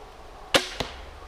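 A crossbow is shot during a hunting guide's lesson, giving one sharp snap as the bolt is released, followed by a quieter thud a moment later.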